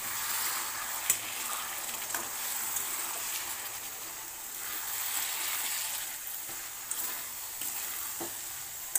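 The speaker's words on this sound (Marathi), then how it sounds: "सर्व मटण टाकून घेते मी. मटण छान परतून घेऊया आपण." Half a kilo of mutton sizzles and crackles steadily as it is sautéed for a Solapur-style dry mutton masala, with occasional sharp pops from the pan.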